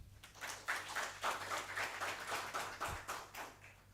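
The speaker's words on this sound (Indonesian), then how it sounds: "tepuk tangan numun." Faint applause from an audience at the opening of a Balinese language month event, scattered hand claps with uneven rhythm and no talking.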